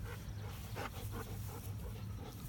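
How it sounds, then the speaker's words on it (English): Two dogs play-fighting indoors, low rumbling growls and scuffling noises running continuously and fairly close, with no talk over them. "Mostly a lot of noise and growling."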